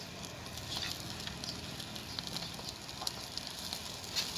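Chicken frying in a hot pan, steady crackling sizzle with scattered sharp pops throughout, close and fairly quiet, no voices.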